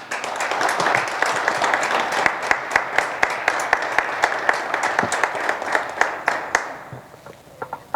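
An audience gives a warm round of applause for a poet at the presentation of his poetry book, with many hands clapping loudly and steadily, then thinning to a few scattered claps near the end.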